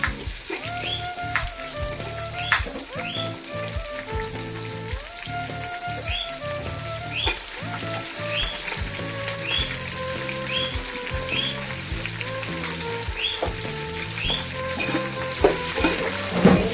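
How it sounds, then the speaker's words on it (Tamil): Onions sautéing in oil with green chillies and curry leaves for chicken biryani, a continuous close sizzle and hiss with regular stirring clatter of a ladle against the pan, no voices. "வெங்காயத்தை நல்லா வதக்கி வெங்காயம் நல்லா பொன்னிறமாக வதங்கட்டும்"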